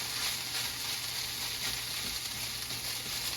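Frozen mixed vegetables such as carrots and peas sizzle steadily in a hot pan for fried rice while being stirred, a dense continuous crackle with no voices.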